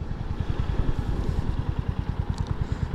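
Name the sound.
Royal Enfield 350cc motorcycle engine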